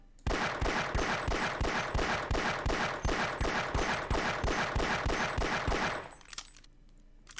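Rapid, evenly spaced machine-gun fire in Half-Life aimed at a crystal, a loud close burst of about two dozen shots lasting several seconds before stopping abruptly into quiet ambience.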